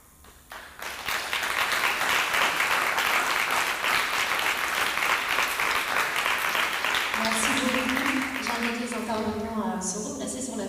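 Warm, sustained applause from a conference audience at a social development event, loud and dense after a short quiet start, with a voice beginning to speak over the clapping near the end.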